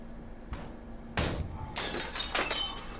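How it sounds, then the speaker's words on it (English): Glass shatters in a scene from the horror film Don't Breathe: a sharp smash followed by a cascade of breaking, tinkling shards, loud and close over quiet background. "No one fucking hears glass breaking?"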